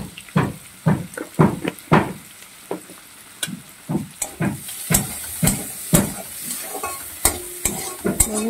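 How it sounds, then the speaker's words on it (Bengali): Shrimp frying in oil with salt and turmeric, heard as a steady sizzle broken by a run of sharp, close stirring knocks and scrapes against the pan, with no voices. "সামান্য লবণ দিয়ে দেবো, আর হলুদ দিয়ে দেবো, দিয়ে চিংড়িটাকে ভেজে তুলে নেব।"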